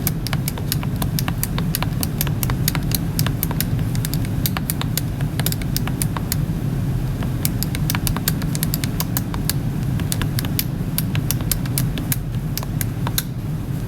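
Values are typed on a calculator with enter pressed after each, sparse clusters of small sharp key taps over a steady low hum, close and fairly light.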